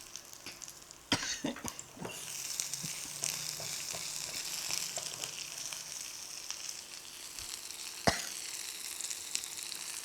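Curry leaves and onions stir-fried in a hot pan give a steady close sizzle throughout, broken by a few sharp clatters and scrapes of stirring.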